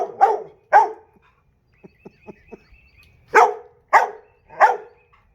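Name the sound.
dogs barking while playing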